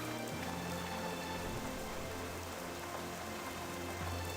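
Steady rain in World of Warcraft falls in a dense, continuous hiss of drops on surfaces, even and unbroken throughout, with no voices.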